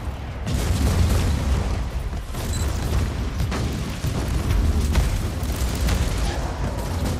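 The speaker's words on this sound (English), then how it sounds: "it's so fun just to run in and place these mines and blow them up. Just watch everything explode" Mines detonating in Warhammer 40,000: Inquisitor - Martyr, a steady run of heavy booms and crackling blasts rolling one after another at close range over a continuous low rumble of battle.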